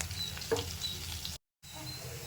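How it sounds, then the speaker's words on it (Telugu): Onions frying with curry leaves in a pan, a steady crackling sizzle with a brief stir near the start, interrupted by a short gap of silence. "ఆనియన్ కొంచెం బ్రౌన్ అయ్యేంత వరకు వేయించేద్దాం"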